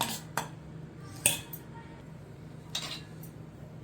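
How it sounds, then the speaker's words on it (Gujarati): A utensil scrapes and clinks against a bowl while batter is stirred for cheese corn pakoda, four sharp taps spaced apart over a quiet kitchen background. "ત્યાં સુધીમાં આપણે ખીરું બનાવીને રાખ્યું હતું તે સરસ તૈયાર થઈ ગયું છે, એને આપણે હલાવી દઈશું"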